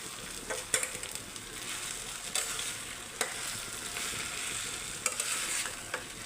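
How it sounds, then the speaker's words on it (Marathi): Eggplant for baigan bharta is stirred in a frying pan, a soft steady sizzle broken by scattered sharp scrapes and taps of the spoon against the pan, fairly quiet and close, with nobody talking. "आता हलवून घेते बघा."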